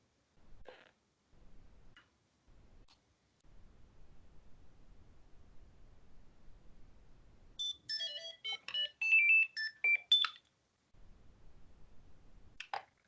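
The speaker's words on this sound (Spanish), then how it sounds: "Me suena el teléfono, chicos" A phone ringtone chirps in a burst of rapid electronic tones, fairly clear and brief, set between quiet stretches of soft rustling and light handling noise.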